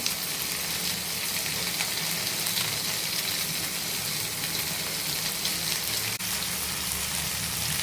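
Guli vinda fish shallow-frying in a pan, a steady dense sizzle with crackling oil spatter running evenly throughout, close and fairly loud with no voices.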